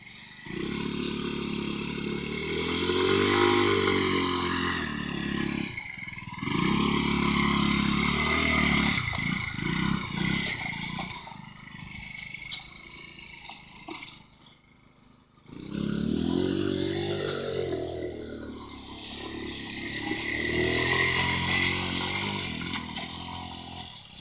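A moped engine revs up and down repeatedly, rising and falling in pitch, close and loud, with a brief lull partway through before revving again.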